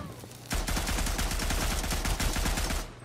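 Sustained rapid machine-gun fire in the World War I shooter Isonzo, a Maxim-style burst of evenly spaced loud shots starting abruptly after a brief quiet moment and running close and continuous to the end.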